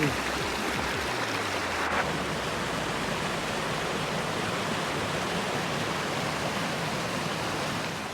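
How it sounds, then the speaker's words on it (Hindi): Steady, loud broadband rush of fast-flowing river water swollen by rain in Swat, continuous and close, with a brief low rumble near the start. "यहाँ नदी में पानी बहुत ज़्यादा हो गया"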